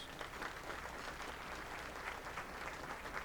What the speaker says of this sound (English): Can we give those sponsors a round of applause?